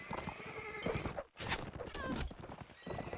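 Horses neigh and whinny amid steady clip-clop hoofbeats in the chaos of a medieval combat video game battle, with dense clashing noise throughout and a brief lull midway.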